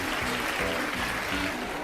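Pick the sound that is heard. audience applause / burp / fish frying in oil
audience applause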